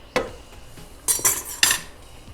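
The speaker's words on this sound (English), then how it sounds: "scoop out about a quarter cup of the liquid and add that to our sauce" Metal utensil clinks and scrapes against a pot while pasta cooking water is scooped out for a cherry tomato spaghetti sauce, a few sharp separate knocks over a quiet kitchen background.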